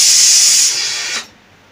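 A home pressure cooker, one that has trouble whistling on its own, lets out a loud, steady rush of hissing steam for over a second before the sound cuts away sharply to quiet.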